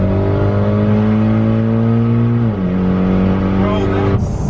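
A Mitsubishi Evo 10 with a straight-piped exhaust and open dump idling loud and close, a deep droning rumble that dips briefly then settles again, with a sharp crackle near the end.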